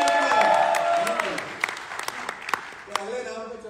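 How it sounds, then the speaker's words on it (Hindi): Applause from an audience at an anniversary event, starting dense under a voice on loudspeakers and thinning into scattered individual claps. "बहुत बहुत बधाई, जोरदार ताली होनी चाहिए।"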